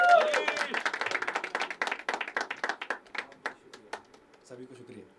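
A small audience at a poetry open mic in a venue called The Habitat claps to welcome the next poet, Harish: crisp, close, separate hand claps that thin out and trail off into a few scattered claps before quiet.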